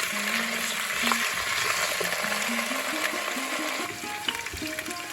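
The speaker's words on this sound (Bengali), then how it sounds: "আলুটা ভাজা হচ্ছে" Potatoes fry in a pan with a steady, close, hissing sizzle, a low hum running beneath and faint clinks now and then.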